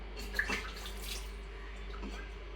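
Water is poured and splashed over a dog during a bath in hot weather, a steady wash of trickling and splashing with a few brief drips and sloshes, close and moderately loud, with no talking.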